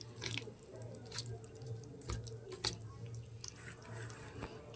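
Fish roe fritter batter with a little chili powder squelches and squishes as it is mixed by hand, with soft wet slaps and pats repeating close up over a low steady background hum.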